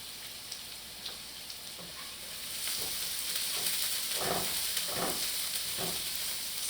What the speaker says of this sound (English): Saute that well.